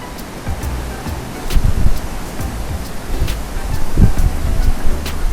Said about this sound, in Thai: วันนี้ลมแรงมาก ๆเลย